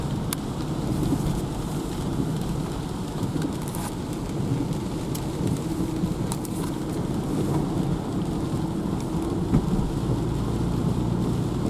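Steady rain falls without a break in cold, raw weather, a dense hiss that stays even and fairly loud throughout, with no voices.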